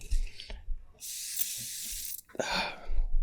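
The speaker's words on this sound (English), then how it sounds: "spraying water on your face" A cooling face spray mists water onto a face in two close, loud hissing bursts, one long and one short, with soft rustling around them.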